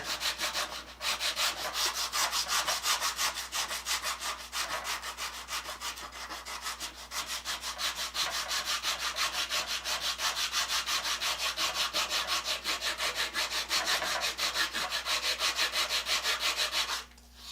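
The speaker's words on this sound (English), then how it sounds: "One of my paint stirring sticks with a worn out belt from my 21-inch, 3-inch wide belt sander." A worn belt from a 21-inch, 3-inch-wide belt sander grinds against a wooden paint stirring stick, making a loud, steady rasping scrub with rapid regular pulses and brief pauses, close by, with no talk.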